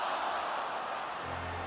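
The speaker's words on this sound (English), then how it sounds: "You can just hear this crowd just wanting and wishing for it to go in." Basketball arena crowd at a New York Knicks vs Atlanta Hawks game, a broad sustained roar of anticipation filling the space with no talk.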